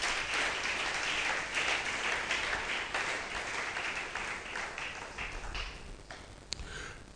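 A church congregation applauding during a French and Lingala worship service, a steady dense wash of clapping that fills the whole stretch, with one sharp tap near the end.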